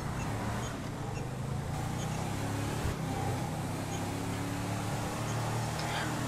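A car being driven in the GTA 5 video game, its steady engine drone and road rumble running continuously at moderate level with no talk.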